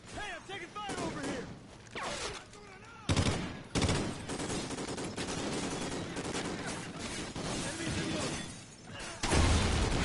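Video game gunfire in the Ghost campaign: rapid bursts of shots and sharp cracks come in waves with brief lulls, loud and dense, with voices talking underneath.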